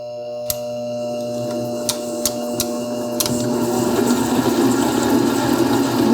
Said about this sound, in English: We're going to take our butter and sugar and we're going to cream them.